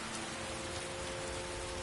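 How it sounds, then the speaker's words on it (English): Steady rainfall in the video game Skyrim, a continuous soft hiss of drops on the ground, even and unbroken at a low level with no voices. "The rain is letting up."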